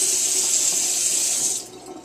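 Cold water gushing from a kitchen tap to fill a pot for cooking rice, a steady, loud, hissing splash that eases slightly near the end.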